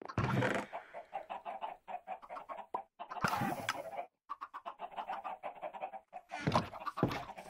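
Chickens on a Minecraft farm cluck in short bursts, several birds overlapping at close range with brief quiet gaps between flurries, no talking.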